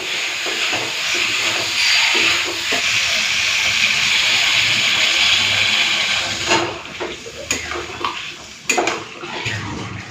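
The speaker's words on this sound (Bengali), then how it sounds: "তো জলটা দিয়ে ভালো করে মিশিয়ে দিলাম" Water hits potatoes frying in a pan and sets off a loud, continuous steamy hiss, which fades after several seconds into scattered clatter of a utensil against the pot.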